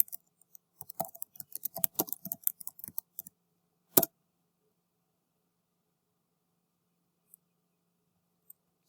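A search term is typed on a computer keyboard, a quick close run of clicking keystrokes for about three seconds ending in a sharp final key press, then near silence with a couple of faint clicks.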